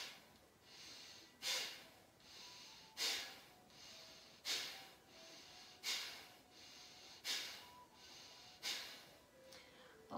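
Forceful pranayama yoga breathing: seven strong, sharp nasal exhalations in a steady rhythm about every one and a half seconds, close and alone, each a hissing puff that fades quickly.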